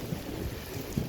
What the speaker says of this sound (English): the rain has arrived, much needed rain after like 6 days of 35-degree heat